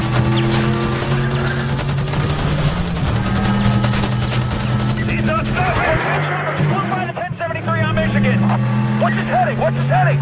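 A police helicopter in the video game Need for Speed The Run drones with a loud, constant rotor hum, mixed with a revving car engine, tire noise and what sounds like gunfire bursts, all dense and continuous throughout.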